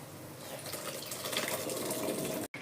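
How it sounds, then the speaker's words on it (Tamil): Chickpea cooking water pours steadily into a masala gravy for channa masala, a continuous close liquid gush that cuts off briefly near the end, with no talking. "நம்ம சுண்டல் வேக வச்ச தண்ணியை சேர்த்துக்கலாம்."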